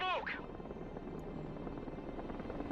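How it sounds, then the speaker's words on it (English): Helicopter passing overhead in the video game Broken Arrow, a steady broadband rotor and engine roar filling the whole clip at moderate level, with a brief voice at the start. "Let's see now in the harder test here, where the helicopter flies over me"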